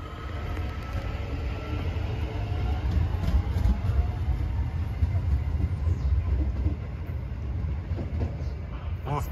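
An Irish Rail commuter train on the line toward Dublin and Howth pulls away with a steady, loud low rumble and a rising motor whine, continuous and close throughout.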